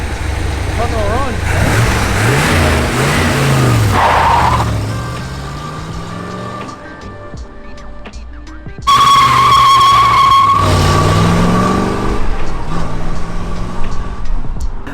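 A big-block V8 engine in a 1974 Chevrolet Corvette idles and revs, roaring up loudly with rising and falling pitch, tires squealing briefly, while a person talks over it.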